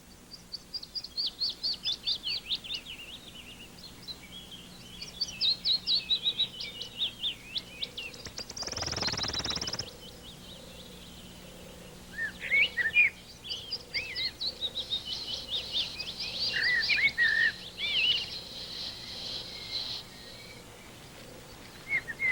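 Warblers sing repeated high, rapid phrases from nearby undergrowth at a spring migration landfall site, several voices overlapping, with a brief rush of noise partway through.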